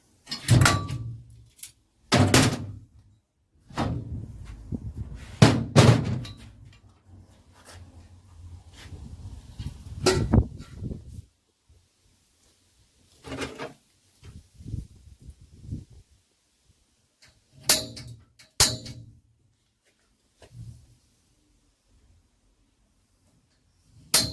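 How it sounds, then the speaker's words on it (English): Sharp metallic knocks and clanks from punching holes in an aluminium trailer tailgate, sounding in irregular clusters of loud close hits separated by quiet pauses, with a few softer handling noises in between. "I'm just going to knock a couple of holes in here."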